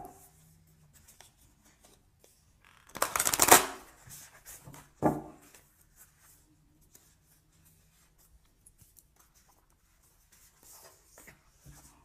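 Tarot cards being shuffled and handled, a brief riffling burst followed by a single soft card snap, then near silence with faint rustles.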